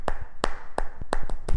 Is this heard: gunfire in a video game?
no